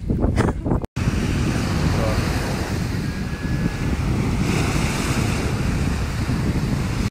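Ocean waves break at a Miami beach in a steady roaring wash, heavily buffeted by wind rumbling across the microphone, loud and close throughout after a brief cutout near the start.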